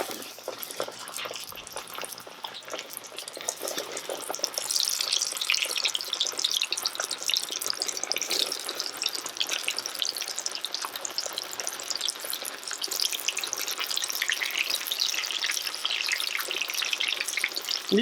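Potatoes fry in hot oil in a pot, filling the space with loud, dense bubbling and crackling sizzle that grows stronger and continues without pause, no voices.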